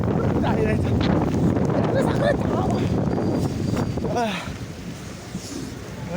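Heavy rain and strong wind sweep through a street in Dubai, a loud, dense rushing roar that eases slightly toward the end as someone talks over it.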